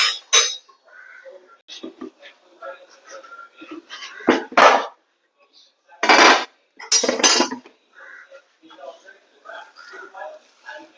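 Beef biryani is scooped from a pot into a serving dish with metal utensils, giving sharp irregular clinks and scrapes of cookware, some loud and close, separated by quiet gaps.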